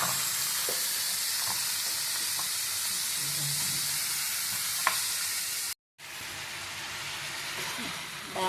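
A tempering of green chili and fenugreek with bottle gourd sizzles and hisses steadily in hot oil, close and continuous, with one brief dropout.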